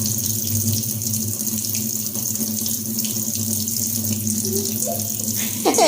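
A tap runs steadily, pouring dirty water into a basin in a continuous, loud, even rush with no breaks. There is no talking over it.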